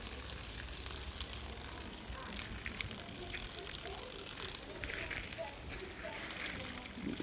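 Water running from a pipe, a continuous faint gushing hiss that stays steady throughout, heard from close range with light background sounds.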